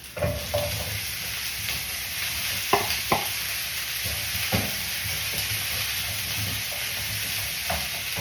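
Chicken feet sizzle and fry in a pan with a steady hiss, broken by a few scraping stirs and clinks of a utensil.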